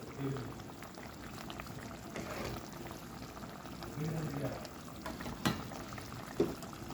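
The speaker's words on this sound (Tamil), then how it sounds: "புளி தண்ணி சேர்த்துருக்காங்க, புளி கரைச்சி வச்ச புளி சேர்த்துருக்காங்க." Tamarind water is poured into a pot of spicy rasam, giving a soft, close bubbling and liquid splashing that continues throughout, with occasional small clinks.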